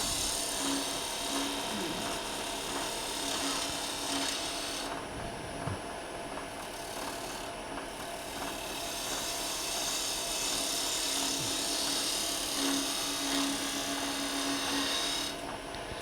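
A hand tool steadily cuts and shaves wood in a continuous raspy scraping, close and fairly loud over a constant background hum, with brief pauses between strokes; no talking is heard.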